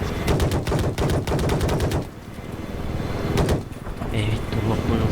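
Rapid bursts of automatic gunfire in a team-based online shooter game, loud and close, then a pause and another short burst, with players talking over the action.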